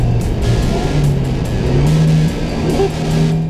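A Datsun Roadster engine revs and pulls up a tight, twisting road, loud and close, with the pitch rising and falling through gear changes.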